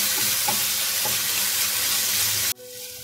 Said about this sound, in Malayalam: നമ്മൾ പേസ്റ്റ് ആക്കി വെച്ച ഇഞ്ചിയും ഇതിലോട്ട് ആഡ് ചെയ്യാം. എന്നിട്ട് നല്ലപോലെ ഒന്ന് മിക്സ് ചെയ്ത് കൊടുക്കാം.